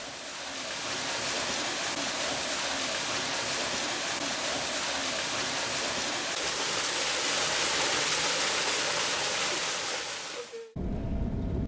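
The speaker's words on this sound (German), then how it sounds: "formiert sich der Bach zu einem kleinen Wasserfall, der einen Pool bildet" A small waterfall on a stream fed by artesian water in Namibia's Kaokoland, dropping into a pool, gives a steady, dense rushing roar that runs unbroken before cutting off near the end.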